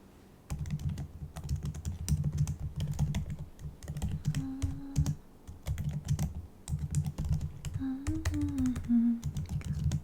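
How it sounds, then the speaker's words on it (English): Steady keyboard typing fills the clip, a fast run of close clicks and key taps in an ASMR-style interview setting, with brief pauses and a couple of soft tonal hums, no speech. "I'm not good at typing without looking at the keys"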